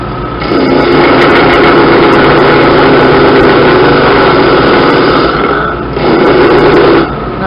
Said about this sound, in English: Okay, and there's the disc sander.